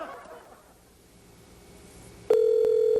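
Telephone ringing through a speakerphone with the volume turned up, a steady electronic ring tone that starts abruptly after a brief quiet stretch and continues loudly to the end.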